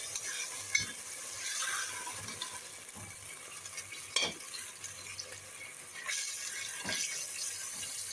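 Pieces of kebab stirred in a hot pot, a soft steady sizzle with occasional clinks and scrapes of the spoon against the metal, close and moderately quiet, with no talking.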